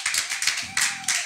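Congregation applauding in church, a brisk run of hand claps with a few stronger bursts, close and fairly loud.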